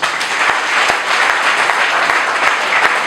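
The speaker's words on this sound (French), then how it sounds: "Et ils méritent nos acclamations." Wedding guests clap steadily in a dense round of applause, a few sharper individual claps standing out from the continuous wash, with no talking over it.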